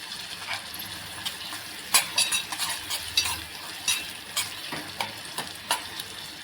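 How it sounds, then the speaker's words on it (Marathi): Onion frying in a pan for a Maharashtrian eggplant bharit: a low steady sizzle under repeated clinks and scrapes of a spoon stirring against the pan, close and busy, with no voices. "ते बघा इथे आपला आता कांदा आता शिजत आला आहे"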